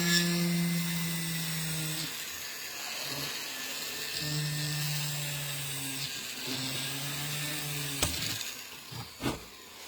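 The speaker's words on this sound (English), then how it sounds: "I'm going to go in with this little tiny burr to make my hole" A tiny ball burr drilling a hole in metal for a bezel shot die makes a high whining buzz in several bursts with pauses, ending in a couple of sharp clicks.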